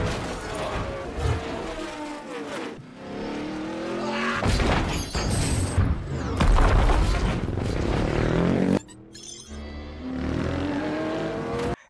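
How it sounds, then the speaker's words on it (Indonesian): A chaotic, brutal car race in a video game, with racing cars roaring and accelerating loudly throughout, interspersed with sharp tire squeals and skids, plus a brief crash-like burst near the end. "Wade ini bakal ngikutin balapan mobil, salah satu event buat mereka ini bisa dapetin kunci pertamanya"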